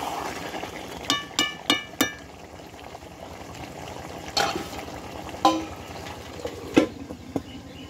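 Meat is stirred as it fries down in spices and released oil in a pan. A run of sharp spoon or spatula scrapes and clinks comes in quick clusters over a soft, continuous sizzle, close by.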